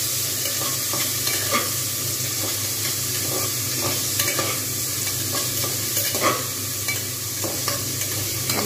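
Potato pieces stir-fried in a hot pan, a steady close sizzle with repeated scraping and stirring strokes throughout, no voices.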